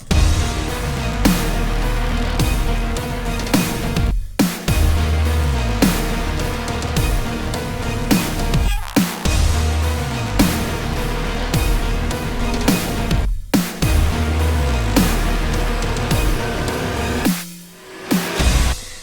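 A dense music track with heavily processed, gritty guitar over driving percussion, with brief drop-outs between sections.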